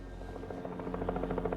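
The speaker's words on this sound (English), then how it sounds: "Long before dawn, news helicopters hovered over the state prison" A news helicopter hovers over a state prison before dawn, its steady rotor chop and engine drone continuous and fairly close, with no voices.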